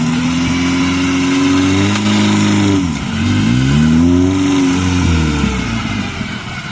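A Lada Niva's engine revs near and loud, its tone climbing and dipping through several throttle swells over a steady rumble, with no talk.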